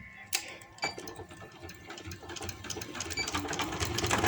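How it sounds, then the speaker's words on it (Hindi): Sewing machine stitching palazzo pants, opening with a couple of sharp clicks, then a rapid mechanical chatter that builds in speed and loudness, close by with no talk. "1/2 इंच का मार्जिन अंदर देते हुए इस तरह से मैं इसे स्टिच लगा दूंगी।"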